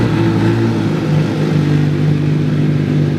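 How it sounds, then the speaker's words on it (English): A motorcycle, an L6 model fitted with a single Yoshimura exhaust can, runs nearby with a steady, throaty engine note and a low humming drone, the revs barely changing. "the L6 model's got a very different sound with the single Yoshimura can."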